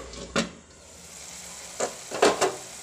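Ground tomato purée cooking in a pan for matar paneer, a faint low sizzle with a few soft scraping stirs and light clatters against the pan.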